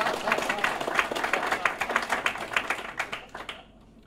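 Audience at a KansasFest 2016 conference talk breaks into applause, a dense patter of many hands clapping at close range for a few seconds before fading out.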